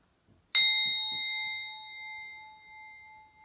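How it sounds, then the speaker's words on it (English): One clear strike of a singing bell rings out, its bright pure tone sustaining and slowly fading, with faint soft sounds just before. "I want everyone to get really quiet as I hit the singing bell."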